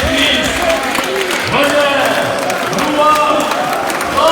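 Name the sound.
congregation cheering and applauding to acclaim Jesus Christ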